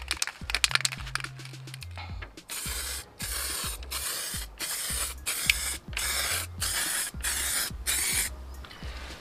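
Repeated short bursts of Renu Action Paints spray paint onto car wheels, about a dozen hissing puffs in a steady rhythm, close up, after some clicks and rattling at the start.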